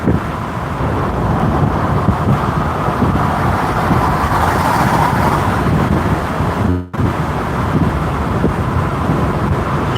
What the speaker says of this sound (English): the truck is loud